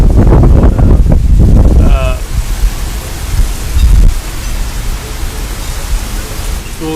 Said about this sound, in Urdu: اس وقت لاہور میں طوفانی بارش ہے